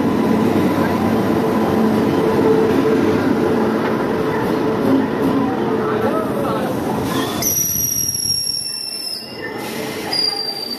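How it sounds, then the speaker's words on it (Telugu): A passenger train pulls into platform two at Secunderabad railway station, a steady rumbling roar with rolling wheel noise; high brake or wheel squeals cut in near the end as it halts, with crowd chatter underneath. "ఫైనల్గా ట్రైన్ అయితే సికింద్రాబాద్ రైల్వే స్టేషన్కి సెకండ్ ప్లాట్ఫామ్ మీదకి కంప్లీట్గా రాకముందే ఎవరో చైన్ పుల్ చేసి ఆపేశారు"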